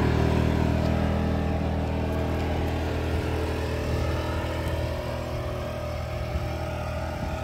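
Inverter generator in a DIY fiberglass enclosure for an RV, running with eco mode switched off: a steady, loud engine drone with a low rumbling hum and constant mechanical whir, unchanging for several seconds with no talking.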